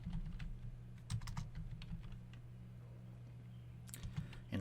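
Soft, quick keystrokes on a computer keyboard tap out an irregular stream of clicks, faint and close, over a low steady hum of room or computer noise.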